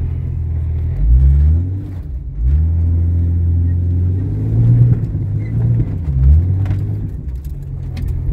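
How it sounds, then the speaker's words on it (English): A 1996 Jeep Cherokee XJ 4x4 engine revs loudly in four-wheel drive through mud, with a low droning rumble that rises and falls in several surges. "Let's see if we can kick a little bit of mud."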